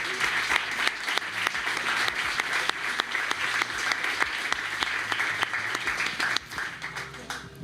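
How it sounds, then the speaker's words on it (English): Warm applause from an audience at a founders' event after a panel discussion on building successful products, a steady wash of many hands clapping for several seconds before thinning out near the end. "Big round of applause."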